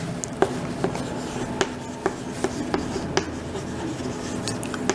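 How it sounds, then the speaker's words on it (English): Pen or pencil scratching across paper as word meanings are written out by hand, a steady run of close, light strokes and taps in a quiet room. "I will write the meaning here."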